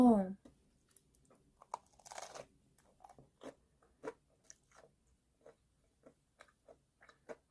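Crisp crunching bites and chewing of a crispy fried streusel pastry filled with red bean paste, close to the ear, in irregular bursts with quiet gaps between them.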